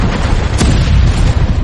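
A heavy artillery cannon firing as a sound effect, a loud, sustained, rumbling boom that fills the short clip with deep roaring blast energy.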